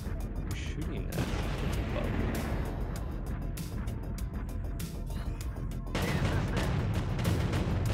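Weapons fire in the mech combat game MechWarrior Online, a loud, dense, continuous roar of blasts and rumbling impacts with sharp crackling bursts, growing heavier near the end, with voices talking over it.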